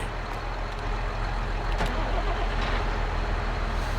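Several tractor engines idle and rumble together in Farming Simulator 22, a steady, dense, loud diesel drone with faint beeps over the top.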